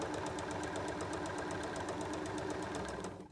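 Sewing machine running steadily while stitching a fabric journal cover, with a rapid even mechanical clatter of needle strokes, close and fairly quiet, stopping abruptly at the end.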